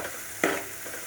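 Spices with turmeric fry briefly in a pan over a medium gas flame: a quiet hiss with one sharp, loud sizzling burst as something is stirred in, then a low simmering crackle.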